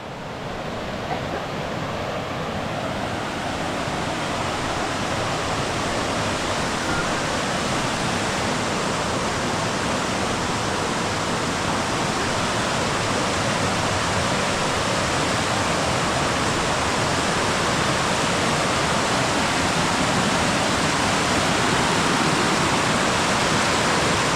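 A steady, loud rush of falling water from Wang Bo Waterfall in Prachinburi, Thailand, roars continuously throughout, broad and unchanging, with no voices.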